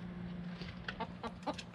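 Several chickens cluck softly in short, uneven bursts over a low background hum, fairly close by.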